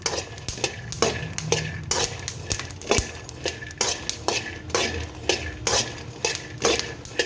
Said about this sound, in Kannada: ನಾವು ಚಮಚೆಯಿಂದ ಅದನ್ನ ಅಳ್ಳಾಡ್ಸನೇ ಇರಬೇಕು.